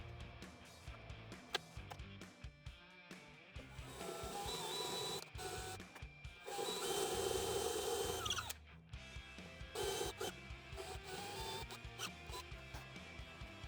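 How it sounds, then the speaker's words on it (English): A 1/2-inch Forstner bit bores dowel holes in a workshop, with several sustained whirring drill bursts separated by short pauses, close and fairly quiet. "Here I'm using a 1/2-inch Forstner bit that'll hold our dowels"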